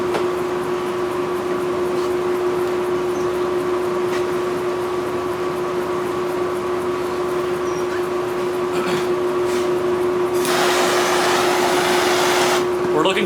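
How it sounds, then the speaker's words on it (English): A torch heats a forged knife blade to temper it in a workshop, giving a steady, close roaring hiss over a constant mechanical hum that grows louder and harsher near the end. "So now it's time to temper it using the torch."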